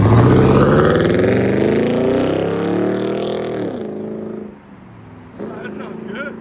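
A Toyota Tundra 5.7L i-FORCE V8 with a loud aftermarket exhaust roars at high revs, deep and droning, then eases off before a short blip of revving, with people talking over it.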